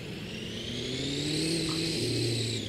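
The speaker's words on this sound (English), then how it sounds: "This truck's got some power." A truck engine revs up as it pulls a load, its pitch climbing and then easing back in a smooth, moderately distant whine, with no voices over it.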